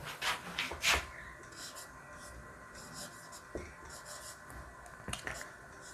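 Writing on a board during a physics lesson on vector addition: a few scratchy strokes come near the start and again near the end, over low room noise.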